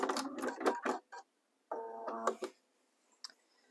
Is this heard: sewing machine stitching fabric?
yes